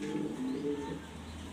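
Jharna satin pigeons, a rare-coloured fancy breed, give a soft, low cooing phrase, faint and close, with quiet background hiss.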